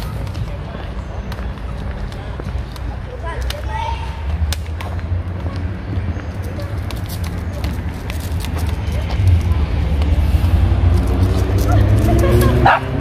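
A dog barks and yips at a monkey in short bursts amid outdoor background noise in Águas da Prata, Brazil, with people talking nearby throughout.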